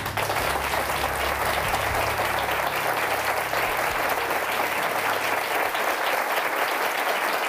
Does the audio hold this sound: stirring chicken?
no